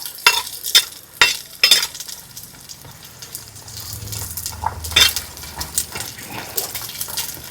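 Small onions sauté with a little salt in a pan, opening with several sharp clatters and knocks of a utensil against the pan, then a softer steady sizzle with occasional scrapes.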